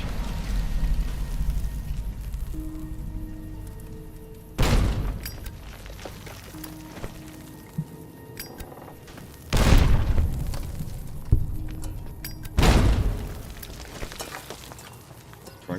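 Dynamite and grenade explosions in Fallout New Vegas, played in a modded hardcore mode: three heavy booming blasts spaced a few seconds apart over a low rumbling background.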